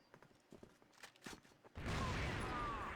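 CrossFire match in a competitive tournament: a burst of scattered shots and thuds gives way to a sustained loud roar of explosions and gunfire as grenades land during a firefight.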